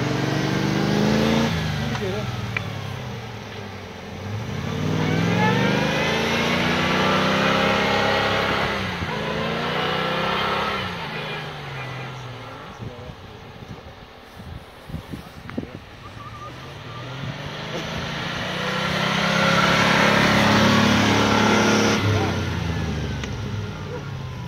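A Land Rover Defender with a 3500cc V8 revs hard while driving off-road in snow. The engine rises and falls in long surges, loud and close, with occasional voices.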